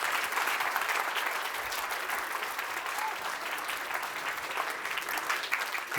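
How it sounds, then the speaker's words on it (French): Audience applause at an awards ceremony, a dense and steady wash of clapping from a large crowd that holds evenly for several seconds. "On peut vous applaudir, on va faire la photo."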